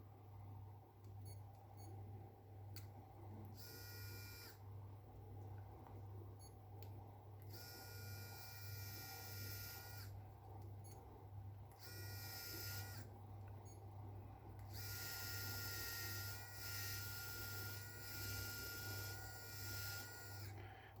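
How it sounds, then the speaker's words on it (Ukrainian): A Miniware ES15 electric precision screwdriver spins in repeated bursts, each a high whirring whine lasting a few seconds, growing longer toward the end over a low steady hum, quiet and close. "Бачимо, швидко крутиться викрутка."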